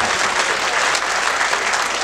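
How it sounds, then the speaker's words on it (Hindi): Thunderous audience applause fills a comedy show venue packed with college students, a dense, steady roar of many hands clapping at once with no gaps, loud and close throughout. "अभी अभी जो मेरे स्वागत में आपने जितनी घनघोर तालियां बजाई"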